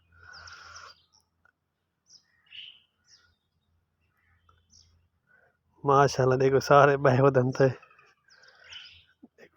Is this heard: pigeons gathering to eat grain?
yes